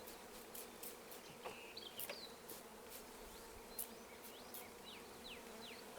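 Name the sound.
bees buzzing during colony installation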